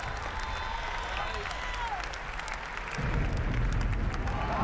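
Sustained applause from an audience at the Sony E3 2018 presentation, a steady wash of clapping that swells louder partway through, with crowd noise mixed in.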